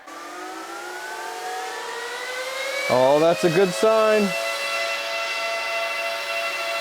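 Bitcoin miner cooling fans spin up with a rising, steady mechanical whine that keeps building, while someone briefly speaks over it.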